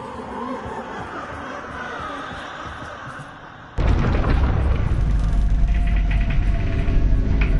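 A Bombarda spell in Hogwarts Legacy erupts into a sudden loud explosion midway, with a sustained rumbling boom after a calmer stretch of game ambience.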